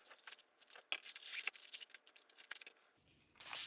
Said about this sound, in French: on va chercher les ciseaux